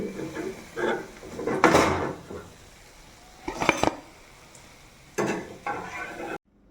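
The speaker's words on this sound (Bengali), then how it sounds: "ভাজা হয়ে গেল, তো এবার নামিয়ে নিচ্ছি।" Fried vegetable spring rolls being lifted out of a pan, giving a few separate clattering knocks of utensils against cookware with a low background sizzle, fairly close and with no talking.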